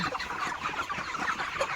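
A flock of 37-day-old chickens on a poultry farm clucks continuously, many overlapping calls forming a busy, close chatter with no talking.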